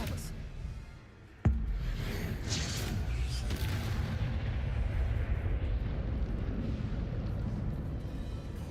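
Expelliarmus spell cast in a Harry Potter video game: a sudden sharp burst that swells into a sustained roaring, rumbling blast, loud and continuous after the hit.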